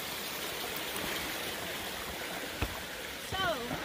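A mountain stream rushes in a steady, even wash of flowing water. A single brief voice cuts in near the end.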